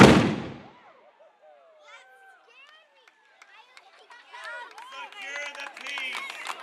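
A historic cannon fired by a gun crew at Sutter's Fort booms once, loud and sharp at the start, then decays into quiet before a crowd of children and adults begins chattering and calling out.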